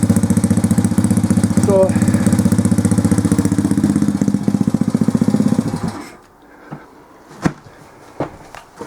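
A pit bike engine fresh from a piston change runs loud and steady with a buzzing, rapid firing pulse for about six seconds, then cuts out, leaving quiet clicks and a few sharp knocks as a voice speaks briefly.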